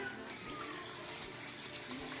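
Coconut water poured steadily from a container, two cups' worth, a continuous close liquid splash and trickle with no talking.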